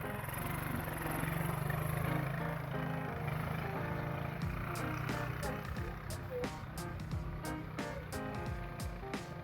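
A sport motorbike engine hums steadily while riding in first gear, a continuous close drone with wind rumble and faint background talk.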